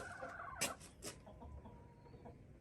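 Chickens cluck in short bursts close by, with a couple of louder squawks early on, over a steady outdoor background.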